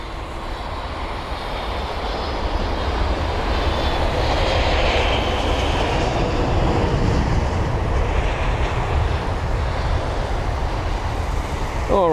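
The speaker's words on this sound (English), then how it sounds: "that was BA252 of British Airways 777-200ER with the reg Golf Victor India Whiskey" A British Airways Boeing 777-200ER lands at London Heathrow, its engines making a loud, sustained broadband roar that swells toward the middle and then fades slowly, with wind-like rushing throughout.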